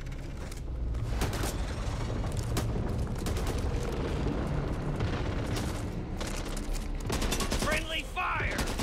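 Gunfire in the zombie shooter Back 4 Blood crackles in dense, repeated bursts, loud and near, mixed with mechanical clatter and creaks, with brief shouted voices amid the shooting.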